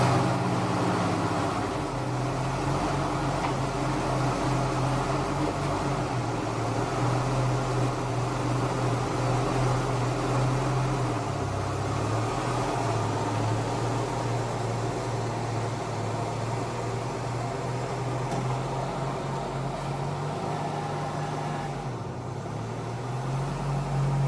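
A truck drives along on a quick ride to get propane, with a steady, close engine and road drone heard from inside the cab throughout, with a slight shift in pitch now and then and no talking.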